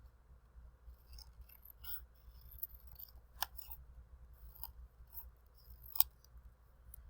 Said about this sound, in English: while it's still folded, I'm going to cut it out